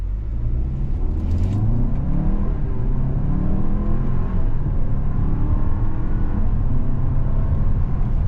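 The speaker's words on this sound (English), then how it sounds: "This engine's got plenty of power, takes you right down the road." A 2023 Hyundai Santa Fe Calligraphy AWD SUV with an 8-speed automatic accelerates hard in sport mode, its engine rising in pitch and dropping as it shifts through gears, a loud continuous in-cabin drone without talking.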